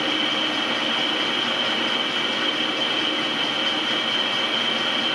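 Metal lathe turning with a sharp high-speed steel cutting tool, a steady loud machine hum with a constant high whine and broadband hiss, unbroken and close.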